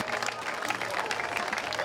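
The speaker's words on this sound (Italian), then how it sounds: "L'applauso del pubblico di Alba Adriatica per Mila Montani" A crowd at an outdoor women's volleyball final in Alba Adriatica claps steadily, a dense wash of applause with scattered cheers, while a commentator talks over it.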